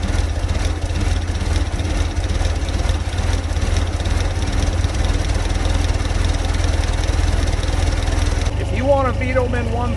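A small engine started with a jump starter and a little choke runs steadily at idle throughout, a continuous close drone, with a voice speaking briefly near the end.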